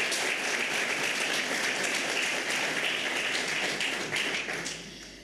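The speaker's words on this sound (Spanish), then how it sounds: "Aplauso para la agente." Audience applause at a formal awards ceremony: steady, dense clapping from a crowd that stays loud for several seconds before tapering off at the end.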